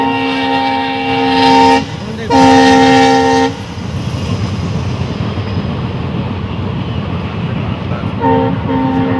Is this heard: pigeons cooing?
no